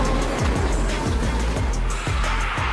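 A professional drift race car slides across an airport runway at high speed, with loud sustained engine roar and repeated rhythmic tire squeals and skids pulsing throughout.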